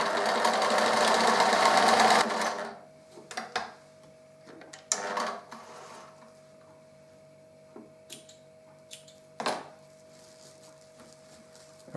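A sewing machine stitches a fabric coaster in a loud, fast run lasting about two seconds, then stops, leaving scattered soft clicks and handling knocks in a quiet room.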